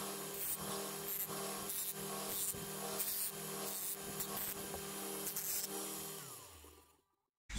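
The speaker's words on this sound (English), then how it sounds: "I will have to take this small angled file and just go over all the sharp edges on all the sides like this" A small angled file rasps along the sharp cut edges of a cigar box guitar body in steady back-and-forth strokes. The close, continuous rubbing sits over a low hum and stops abruptly near the end.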